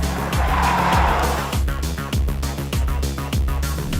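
A 2022 Hyundai i20 N driven hard at Wakefield Park Raceway: a loud engine note rises and shifts through the gears while the tyres squeal. It sounds close and continuous, with no talking.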